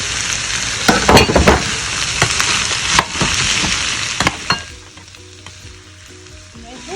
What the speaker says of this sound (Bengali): আগে থাকতে কেটে রাখা গাজর এবং বরবটিগুলো আমি এখানে দিয়ে একটু নেড়ে চেড়ে নেব